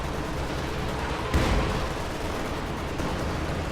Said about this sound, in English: ISU continues to fire away